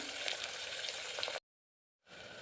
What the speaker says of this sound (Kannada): ಇದು ಎಲ್ಲ ಚೆನ್ನಾಗಿ ಫ್ರೈ ಆಗಲಿ.